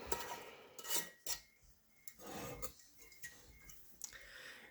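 Metal lid and screw ring set onto a canning jar of homemade onion stock, a few sharp clinks and scrapes, close and alone, with soft rubbing between them.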